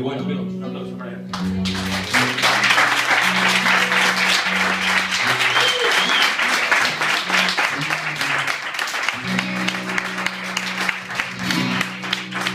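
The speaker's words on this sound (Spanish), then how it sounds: "un aplauso para él" An audience applauds loudly and continuously for a performer, with sustained clapping and crowd noise over a held musical chord that returns as the applause continues.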